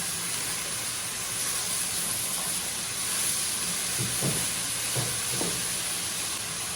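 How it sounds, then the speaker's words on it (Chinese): Noodles stir-fried in a hot wok with oyster sauce, salt, dark soy sauce and black pepper give off a steady, even sizzling hiss, broken by a few soft scrapes of the spatula. "继续给它翻炒一下"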